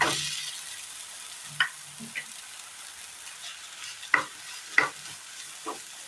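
Chopped beetroot frying in a pan with chili for a Kerala recipe, a soft steady sizzle broken by several sharp scraping stirs of the spoon, close and clear with no talk.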